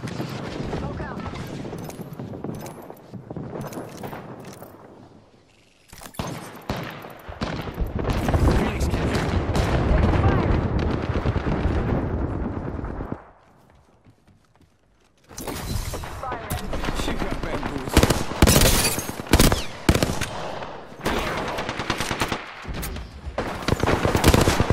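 Rapid gunfire from Apex Legends, including shotgun blasts, comes as loud sustained bursts, breaks off into a brief lull, then returns as dense sharp volleys, with game sounds running throughout.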